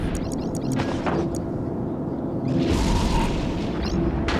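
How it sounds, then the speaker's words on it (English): Caracal sniper ship blowing up in the EVE Echoes space game, a deep booming explosion with rumbling blasts and crackling bursts, loud and dense over a low game drone. "And the Caracal sniper has been destroyed."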